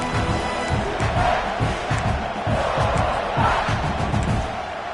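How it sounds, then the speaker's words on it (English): Home crowd roaring and cheering at an NCAA college football game, a loud, continuous wall of stadium noise with surging swells throughout. "this home crowd is fired up and ready to make a difference today"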